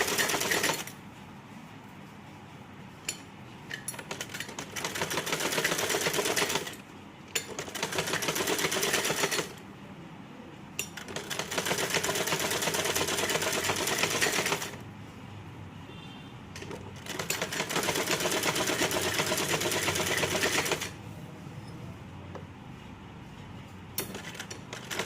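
A sewing machine stitches plain piping onto a blouse, running in several steady bursts of several seconds each with short pauses between them, close and alone with no talk.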